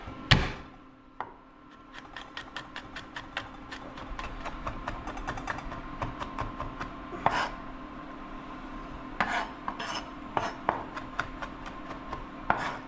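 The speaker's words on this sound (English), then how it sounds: "we're gonna go ahead and chop up some garlic" Garlic cloves being chopped with a knife on a cutting board: a close, steady run of rapid, crisp knife taps that keeps going for the length of the clip without talk.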